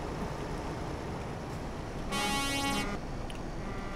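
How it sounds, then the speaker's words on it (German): A truck horn honks in Euro Truck Simulator 2, a single loud, harmonically rich blast lasting under a second over a constant engine drone, with no talking. "Ich hab auch eine Hupe und jetzt?"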